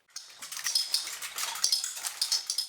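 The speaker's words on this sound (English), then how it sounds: "I created a large kinetic swarm of automatic gun triggers whose sound and motion reflect the repetitive nature of gun-related violence" A large kinetic sculpture of many automatic gun triggers fills the space with a dense, continuous swarm of bright metallic clicks and clinks at moderate volume.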